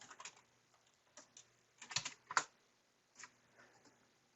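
A computer keyboard clicks in brief, irregular bursts of keystrokes as a command is typed, quiet and close with no voices.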